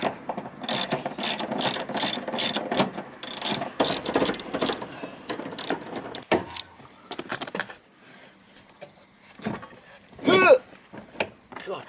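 A ratchet clicks in fast rapid bursts, loosening the seat bolts inside a Nissan Skyline R33 GTST, close and loud at first, then quieter stretches with a few short later bursts.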